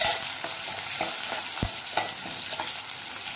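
Peanuts, chopped green chilies and onions fry in hot oil for sabudana khichdi, giving a close, steady sizzle with repeated soft stirring scrapes and one sharp knock of a utensil against the pan.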